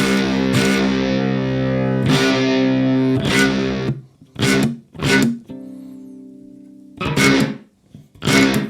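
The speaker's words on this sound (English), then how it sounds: "the room reverb in the Ruby is more the sound of the room of a studio." Distorted, sustained electric violin tones through a Ruby amp IR pedal with heavy effects and a studio-room reverb tail, played in several loud phrases separated by brief pauses.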